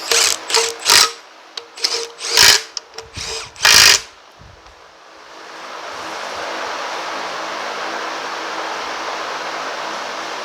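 A power drill snugs 18 mm bolts on a 2010 Chevrolet Equinox engine during a timing chain repair, firing in several short loud bursts before a steady hiss of background noise takes over.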